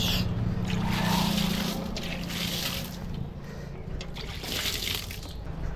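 Water splashes and trickles onto fruit trees and flowering plants, a soft, continuous pouring that swells and eases over several seconds, close by and moderately quiet.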